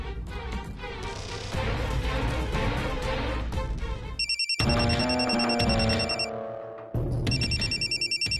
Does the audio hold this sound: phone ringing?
yes